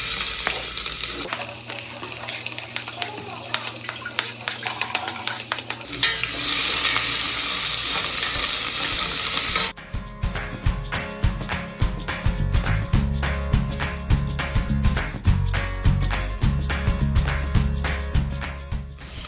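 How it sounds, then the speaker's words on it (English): Onion sizzling in hot oil in a pan, a loud, continuous crackling fry that shifts character as the onion is added and stirred, close with no talk. "There's the oil. Ooh, nice. We add onion."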